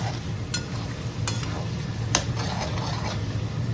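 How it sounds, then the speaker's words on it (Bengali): Meat fries with spices in a pan in a home kitchen, a steady low sizzle with three sharp spoon clinks against the pan, no talk. "আর এদিকে মশলা টশলা মাংস টাংস দিয়ে ভালো করে কষিয়ে নিচ্ছি"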